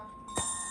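A single small bell on an HO-scale model Baltimore & Ohio caboose strikes once and keeps ringing with a bright, thin, lingering tone over faint background hum.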